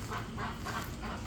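Ducks calling from inside their enclosure at Karma Chakra in Kumarakom, Kerala, giving a steady muffled chorus of overlapping quacks and honks at moderate distance.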